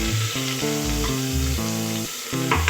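Browned onions with ginger garlic paste fry and get stirred in a pan for vegetable pasta, a dense, close sizzle running steadily beneath melodic background music.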